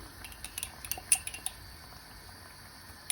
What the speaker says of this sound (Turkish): Şimdi buna Bir kaşık kekik atacağız.